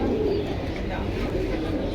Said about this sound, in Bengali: এটা কবুতর আছে পাকিস্তানি